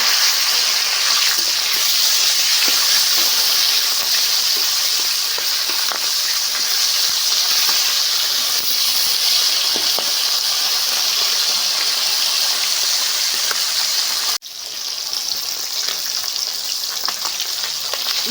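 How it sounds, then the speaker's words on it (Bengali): Fish frying in a pan, a steady loud sizzle that hisses continuously with a brief dip near the end as the pieces are turned, with no talking. "এক সাইড ভাজা হয়ে গেছে আর এক সাইড আমি লৌটে দিচ্ছি"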